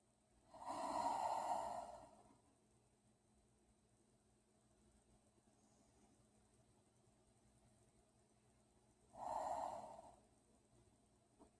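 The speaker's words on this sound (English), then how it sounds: "Just going to take some nice deep breaths here" Two slow, deep breaths are taken during the sleeping baby yoga posture, each a long audible breath of about two seconds, close and soft, separated by quiet pauses.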